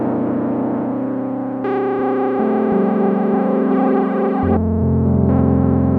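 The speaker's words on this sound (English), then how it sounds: "So the LFO, classic for just kind of your standard vibrato." Prophet 5 analog synthesizer playing sustained chords with a fast LFO vibrato wobbling the pitch, bright and buzzy, notes changing over several seconds with no voices.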